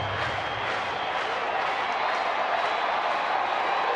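A large crowd of over 40,000 at a Texas baseball stadium stands and cheers, a steady, loud roar of voices and applause that holds without letup.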